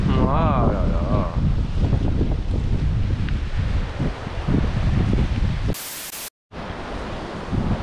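Wind blowing along the Cotentin coast in France, loud gusty buffeting close on the microphone with someone speaking over it and a brief break near the end.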